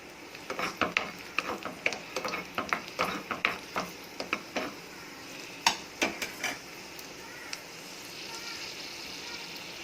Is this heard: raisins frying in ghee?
yes